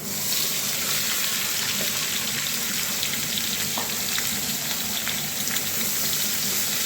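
Cut star fruit fries in hot oil with a bay leaf and dried chilli for a sweet-sour chutney, giving a loud, continuous close sizzle with small crackles.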